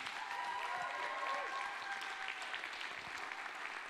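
Audience at a Dartmouth competition night applauds the announced second runner-up, a steady crowd clapping with a faint whistle or cheer near the start, no speech on top.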